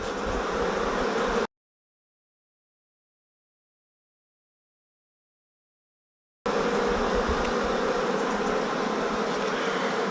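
Honey bees swarm over an open hive colony with frames packed with stores, a dense steady buzz that cuts to silence midway before resuming just as thick and close.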